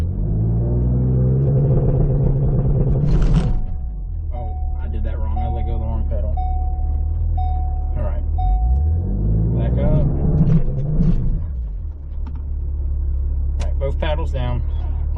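Ford Explorer ST engine revving while held on a transbrake, a loud steady low drone that rises and falls in pitch between surges, with someone talking over it.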